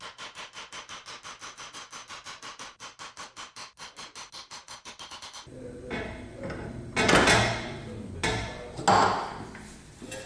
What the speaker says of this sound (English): Now I gotta hammer this axle out.